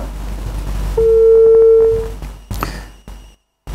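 A telephone line tone after a call drops during a live call-in broadcast: a steady electronic hum holds for about a second, then fades into hiss and a few clicks, no talk.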